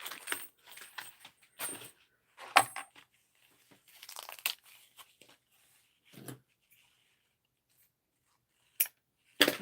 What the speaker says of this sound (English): I'm going to get a couple of zipper pulls out.